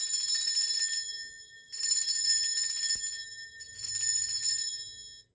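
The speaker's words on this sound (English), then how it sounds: "I'm going to cleanse the space around us by ringing this bell" A hand bell is rung three times to cleanse a space, each strike ringing out bright and shimmering before decaying, with a quiet low hum near the end and no talking.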